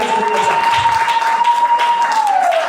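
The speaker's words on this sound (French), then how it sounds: "Acclamez le Seigneur." A church congregation applauds to acclaim the Lord, a dense, sustained patter of clapping with a thin, high held tone ringing through it.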